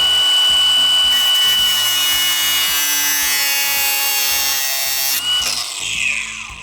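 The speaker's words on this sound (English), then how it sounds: "So what we need to do is cut off this stud." A metal stud is cut off a supercharger bracket on a 200,000-mile BMW, making loud, close, rhythmic rasping strokes that repeat steadily for about five seconds before tailing off, with no talking.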